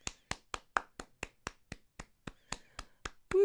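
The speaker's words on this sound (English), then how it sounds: "So we're just gonna do some clapping." Hand clapping in applause for the NHS, a dozen sharp, evenly spaced claps at a steady rhythm, fairly close and moderately quiet, ending with a brief exclamation.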